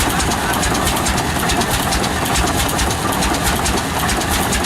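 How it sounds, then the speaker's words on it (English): John Deere twin-cylinder tractor engine running at a heritage tractor show, a steady close, loud chugging idle with dense mechanical clatter and outdoor background noise. "Twin cylinder too, you can hear them both firing there now."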